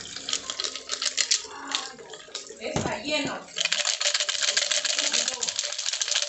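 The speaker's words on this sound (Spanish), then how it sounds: "escuchen cómo suena, debido a que se han ido algunos objetos hacia adentro." An LG Turbo Drum washing machine rattles with loose coins trapped inside its drum, giving a busy, clattering metallic rattle close up, with a brief spoken remark partway through.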